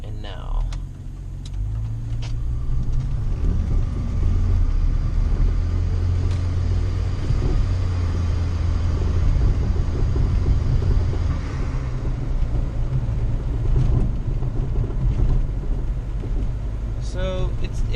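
A chipped Volvo car on a test drive, its engine and road noise a steady low rumble throughout, with a person talking over it.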